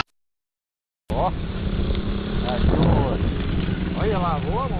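A motorcycle engine drones steadily close by after a second of silence, its revving rising and falling as it rides past, with people talking over it.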